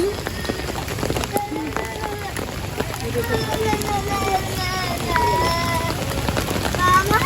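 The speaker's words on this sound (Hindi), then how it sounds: "बारिश तो बिल्कुल रुकने का नाम नहीं ले रही" Heavy rain keeps falling at an outdoor picnic, a constant broad patter. People talk over it.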